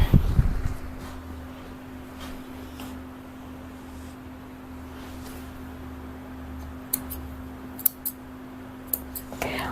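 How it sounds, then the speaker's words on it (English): Scissors trimming the fine hair under a Shih Tzu's eyes at a dog groomer, a few quick crisp snips near the end after a low steady hum of room noise. "I cut a lot of his eye hair away underneath his eyes"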